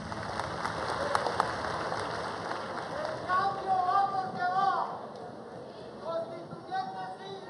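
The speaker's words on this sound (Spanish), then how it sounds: "Un aplauso, por favor, para este logro en beneficio de la comunidad" Outdoor applause from a rural community gathering during a land handover to women farmers, a moderate wash of clapping with voices and chatter mixed in, fading into murmuring by the end.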